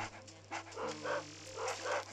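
A dog in Luigi's Mansion 3DS gives a quick run of yips and barks over a low steady game hum, several short bursts in fairly close succession, fairly faint, with no talking.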